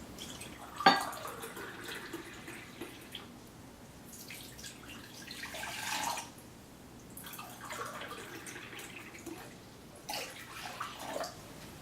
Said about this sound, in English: we're going to add 2 cups of warm water